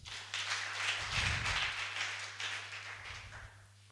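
A church congregation claps in bursts, rising and fading in waves over a steady low hum, with a louder stretch early on.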